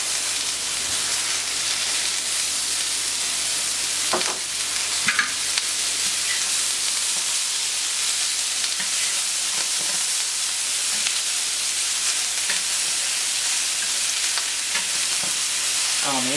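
Chickpeas and aubergines fry in a pan and are stirred, giving a steady loud sizzle with occasional scraping clicks from the utensil throughout.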